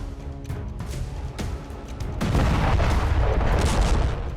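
An Israeli air strike blasts a car in Khan Younis, a heavy booming explosion swelling midway into a loud, sustained low rumble and crackle after a few sharper thuds.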